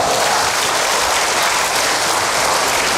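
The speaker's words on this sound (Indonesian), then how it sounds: "Berikan tepuk tangan bagi Tuhan" Loud, dense clapping from a large crowd at a religious gathering, clapping in praise to God, continuous and even for the whole stretch.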